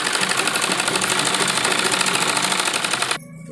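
Sewing machine running continuously while stitching a double seam on fabric for a net blouse, with a fast, even mechanical whir and rapid needle clatter that stops abruptly just before the end.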